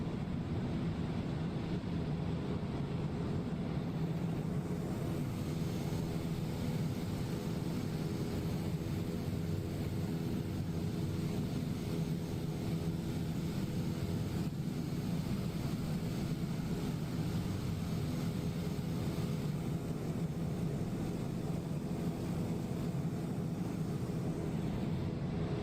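Daher TBM 930 turboprop taxiing in Microsoft Flight Simulator, a steady, continuous engine drone with a low hum and no breaks, holding at an even level throughout with no voices.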